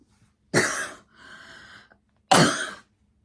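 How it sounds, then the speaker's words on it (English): A person coughs twice, close to the microphone, with a softer throat-clearing rasp between the two sharp bursts, then quiet. "Sorry, I will probably cut that one out, that cough, hopefully."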